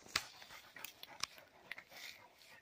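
Hunting dogs used for baying wild boar pant and whine in quick breathy bursts, with a few sharp yips standing out, fairly close and faint, with no talk.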